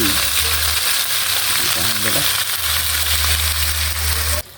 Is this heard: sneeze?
no